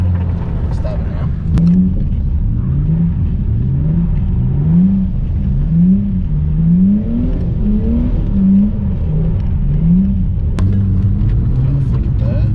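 A Ford Falcon revs and slides through its first drift, the engine rising and falling in repeated surging pulses, loud and close, with people talking excitedly over it throughout.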